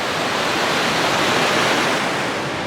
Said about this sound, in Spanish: pasa por aquí al lado y se ve aquí abajo lo que es el río